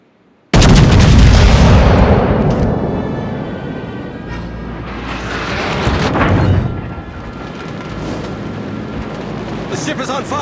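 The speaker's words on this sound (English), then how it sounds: "Concentrate fire on the enemy warship." Naval artillery from the battleship Montana in World of Warships: a sudden loud boom opens a long rumbling roar of gunfire that swells again mid-clip, with scattered blasts and a game voice speaking over it.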